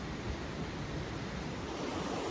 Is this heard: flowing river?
yes